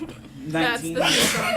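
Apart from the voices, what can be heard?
sneeze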